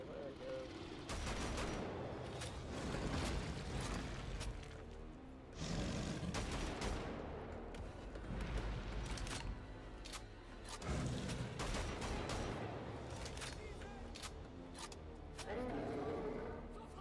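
Repeated shotgun blasts in the video game Wolfenstein: The Old Blood, several loud bursts spaced a few seconds apart over continuous game noise and talk.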